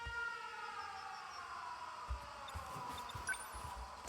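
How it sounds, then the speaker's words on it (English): A wailing air raid siren in the video game 13 Sentinels: Aegis Rim rises and falls steadily over a low background rumble, with a few muffled thumps underneath. "Air raid alarms have been sounded."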